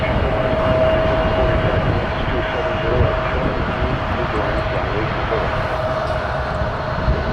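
A Transat Airbus A321neo roars past at an airport, its engines a loud, steady broadband rumble with a faint tonal whine, sustained throughout.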